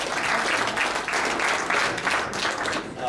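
Steady, dense audience applause fills a softball hall of fame banquet hall, a loud continuous wash of many hands clapping close by, holding level for about three seconds with no talk over it.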